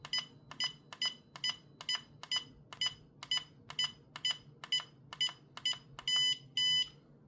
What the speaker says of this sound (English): that double beep means we're back centered